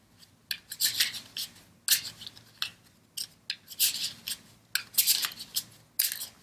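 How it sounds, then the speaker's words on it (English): Tarot cards are shuffled by hand in repeated crisp riffles and slides, close and fairly loud, in bursts about a second apart with brief pauses, with no one talking. "let me give them another shuffle, just the same"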